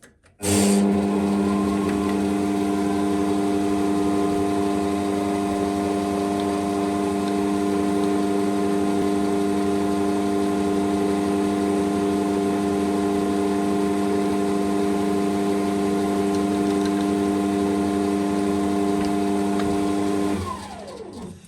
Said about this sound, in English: start with this center drill.